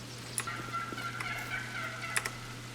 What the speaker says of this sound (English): They added turkeys to this map.